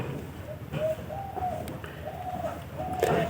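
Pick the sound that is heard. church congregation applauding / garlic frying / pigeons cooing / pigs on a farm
pigeons cooing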